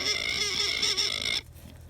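A pig on a farm in Portugal gives a drawn-out, nasal squealing grunt, close and fairly loud, which breaks off abruptly and leaves quiet outdoor ambience.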